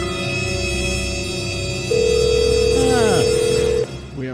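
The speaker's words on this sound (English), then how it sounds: "someone's on the phone." An incoming call rings on a studio telephone during a radio talk show, a loud sustained electronic tone lasting about two seconds over a steady hum, with a brief voice-like sweep overlapping it.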